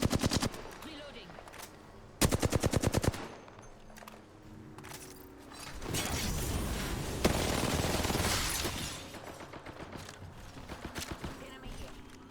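Gunfire in Apex Legends: rapid automatic bursts, a sharp rattling volley early on and denser sustained firing midway, with players talking over the game.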